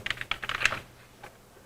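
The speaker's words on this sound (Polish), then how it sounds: "Miałem w treści wiadomości wpisać zadanie, więc wpisuję, wpisuję" Quick bursts of typing on a computer keyboard while composing an email, several rapid close key clicks followed by a short pause and a single faint tap.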